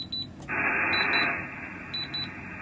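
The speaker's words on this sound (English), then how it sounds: "My alarm's going off." An alarm sounds over a hissing radio channel during a freeband SSB radio session, giving a steady electronic tone with short repeated beeps on top, moderately loud with no speech.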